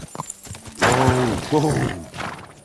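A horse whinnies in the medieval world of Kingdom Come Deliverance 2, with a loud, drawn-out neigh in two bursts and hooves clopping faintly underneath.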